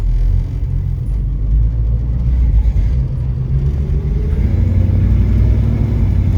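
A 1965 Ford Mustang Fastback being driven around the block gives a steady, loud low engine rumble from inside the car, rising slightly under gentle acceleration.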